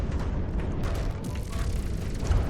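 Dense, continuous rumbling bombardment from the game From the Depths, with heavy booms and blasts overlapping without pause and a loud, close, thick low roar throughout.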